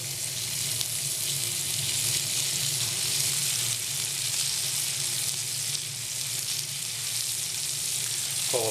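A cauliflower steak fries in a pan with a steady, close sizzle that holds evenly throughout, alone with no talking.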